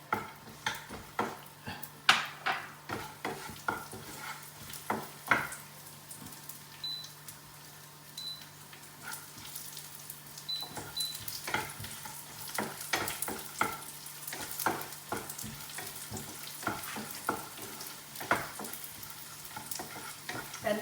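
Almonds and raisins fry in a pan with a soft, continuous sizzle, while frequent quick taps and scrapes of a stirring spoon come in an irregular rhythm, close by and fairly quiet, without talking.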